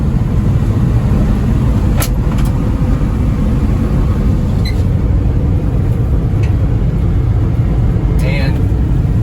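A 1991 Honda 4x4 Japanese mini truck drives along, its steady engine and road noise loud and continuous throughout, with a few faint higher clicks and rattles.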